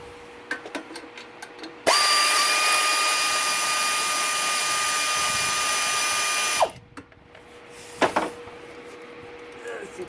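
Power tool spinning out an Allen bolt on a Yamaha YFZ450R engine during a rebuild, a loud, steady whine held for about five seconds, with light clicks and handling noises before and after.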